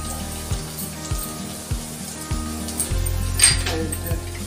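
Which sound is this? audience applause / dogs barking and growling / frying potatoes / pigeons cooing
frying potatoes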